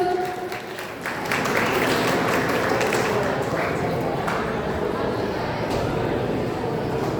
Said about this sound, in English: Please give a huge round of applause for the teachers.